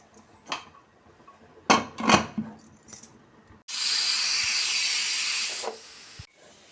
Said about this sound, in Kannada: ನೋಡಿ, ಕುಕ್ಕರ್ ವಿಸಿಲ್ ಬಂದಿದ್ದಾಯಿತು.